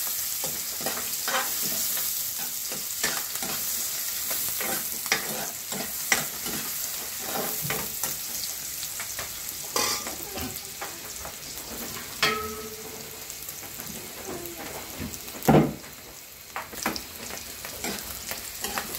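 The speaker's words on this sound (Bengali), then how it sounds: "পেঁয়াজ আর মরিচ দিয়ে হালকা ভাজা হচ্ছে" Chopped onion and chili fry and sizzle steadily in a pan, with a spoon stirring and scraping at irregular moments, including one sharper scrape near the end, all close and with no talk, while a fish curry with potato and eggplant is made.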